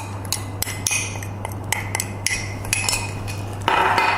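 An ingredient is tipped into a bowl of cashew nuts in a home kitchen, giving a run of light clinks and taps over a steady low hum, then a denser rattle at the end.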